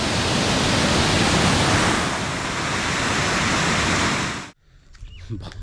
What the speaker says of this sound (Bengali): কি বলতে পারবে এই ঝর্ণাটা কোথায়